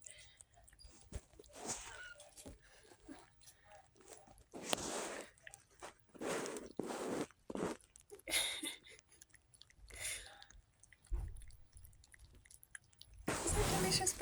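A cat eating baby food gives soft, wet chewing and licking sounds in irregular close bursts, with a person talking over them at intervals.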